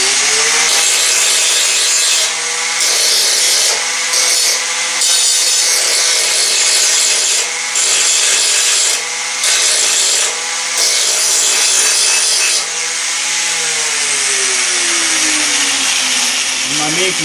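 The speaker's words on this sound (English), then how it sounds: "Now, just take a grinder, cut the welds down a little bit." An angle grinder cutting down welds on a 1979 Pontiac Trans Am, heard as a loud, continuous, close-up whine with a steady high-pitched tone and slight dips in pitch as the disc bites into the metal.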